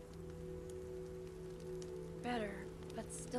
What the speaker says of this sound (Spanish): Pero sigue lloviendo un montón.